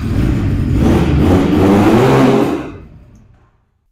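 A 400cc dual-cylinder BMW motorcycle engine revs loudly up close, rising and holding for a couple of seconds before cutting off abruptly into silence.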